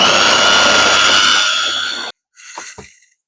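A blender whirs at full speed, mixing a smooth vegan faux gras, then winds down and stops. After a short pause come a few brief clunks and scrapes.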